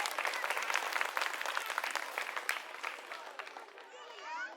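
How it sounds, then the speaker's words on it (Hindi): Crowd at an Aam Aadmi Party political rally in Delhi's Kasturba Nagar claps in sustained, dense applause that stays loud throughout, thinning slightly near the end. "पहले तो एक बार ताली अपने लिए बजा लीजिए आप लोग।"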